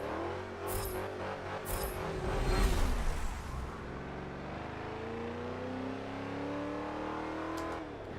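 A GMC Vandura van in the racing game Forza 7, built to about 800 hp, revs up with a rising engine note that peaks and then settles into a steady, droning run. No talking over it.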